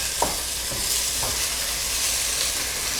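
Vegetables for vegan lentil tortilla soup being stirred in a pot over medium heat, a soft steady sizzle with a few light scraping strokes, close and alone.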